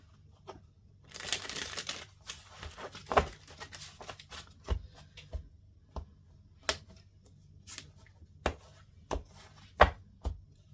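Tarot cards are shuffled by hand up close, making a string of irregular soft slaps, taps and brief riffles with quiet gaps between them and no talk.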